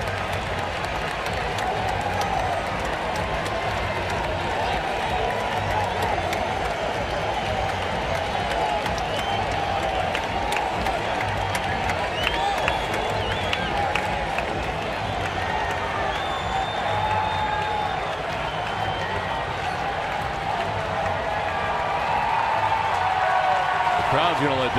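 Baseball stadium crowd noise as an ejected player heads off the field: a sustained roar with scattered clapping and cheering, heard continuously under a commentator's voice.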